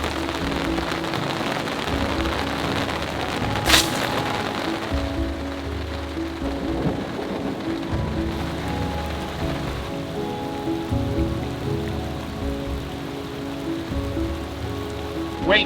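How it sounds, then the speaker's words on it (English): Heavy rain pours steadily during a mountain storm in Colorado's San Juan Mountains, drumming loudly and continuously on a nearby surface for the full stretch, with no voices. "Waiting out the rain. I thought it was going to be like a 20-minute storm, and it's just getting heavier and heavier."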